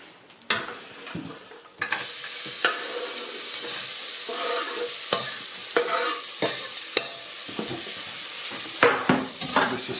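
Vegetable risotto stirred in a frying pan over medium heat: a spoon scrapes and knocks repeatedly against the pan over a steady close sizzle, with short pauses between strokes.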